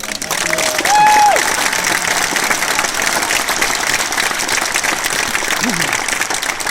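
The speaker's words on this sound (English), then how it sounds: "So let's give them all a hand." A large audience at a premiere Q&A for a TV series applauds in a dense, sustained wash of clapping that stays loud and steady throughout, with a faint cheer or voice near the start.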